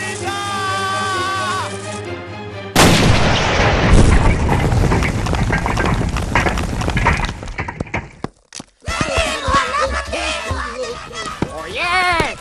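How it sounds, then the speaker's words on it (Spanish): A loud cartoon cannon blast bursts out after a brief musical cue, followed by long crackling, rumbling debris, a short silence, then excited cartoonish voices. "parece que preparan otro asalto y otro cañonazo"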